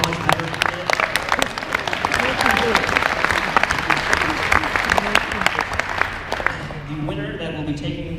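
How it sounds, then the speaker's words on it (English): Banquet audience at an award ceremony applauding, dense steady clapping from a large crowd that fades out near the end as a voice begins. "Can we get a round of applause for how much better he did?"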